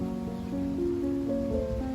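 Steady rain falls on a golf course fairway with standing water, a soft continuous hiss with a low vehicle hum underneath, fairly faint and without talk.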